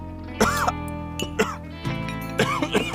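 A young man coughs hard from choking on food during a meal, several harsh bursts with short gaps, close and loud, in an indoor domestic setting.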